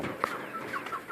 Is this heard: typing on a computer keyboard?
no